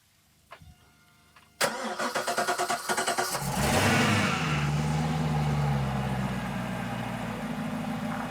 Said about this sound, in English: Now I'm going to fire this engine up.